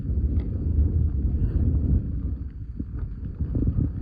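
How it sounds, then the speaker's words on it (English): Chilly wind buffets the microphone on a clear hilltop in Scotland, a steady low rumble that swells and eases over a few seconds, with no voices. "Nice chilly wind too."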